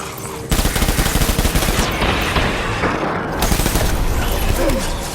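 Sustained automatic gunfire in the video game Death Stranding, a rapid dense fusillade of shots starting abruptly and continuing loud and close for several seconds with a brief lull near the end.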